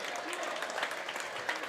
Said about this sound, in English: nice applause from the Rambler faithful.